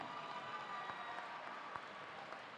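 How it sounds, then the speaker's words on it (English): Crowd applause fills a basketball gym during a break in a high school boys game, a steady wash of clapping at moderate distance with no talk over it. "Let's give Greg Brocious a big round of applause."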